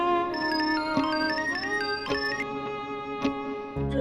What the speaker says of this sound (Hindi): रमेश भैया का फोन है